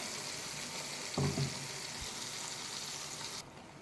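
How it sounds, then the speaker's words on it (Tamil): Ground capsicum paste poured into hot ghee for halwa, giving a continuous frying sizzle with a short burst of pouring and stirring noise partway through, then settling to a steady bubbling hiss. "நெய் நல்லா ஹீட் ஆகிடுச்சு. நம்ம அரைச்சிருக்கோம் பாருங்கள். இந்த கேப்சிகம்மை இதில் ஊற்றிக்கலாம்"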